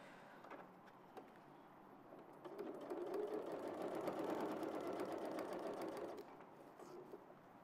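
Domestic sewing machine stitching pockets through several layers of fabric, a steady motor whir that swells louder in the middle stretch and then eases off, close and alone.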